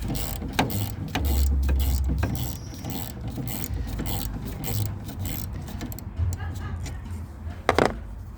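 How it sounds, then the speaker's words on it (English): Ratchet clicking as a 13 mm bolt is unscrewed from the wiper arm of a 2000 Chevy Express G3500, with close mechanical clicks and clatter, a low rumble, and a sharp knock near the end. "Let's screw it just a little bit more until it comes out."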